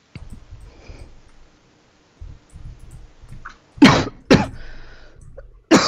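A person sneezes twice in quick succession, sharp loud bursts near the close after quieter rustling and faint background sounds.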